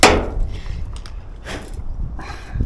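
A hammer striking a chisel against a metal gutter downpipe: a few separate, fairly loud knocks spaced about a second apart, each with a short metallic ring.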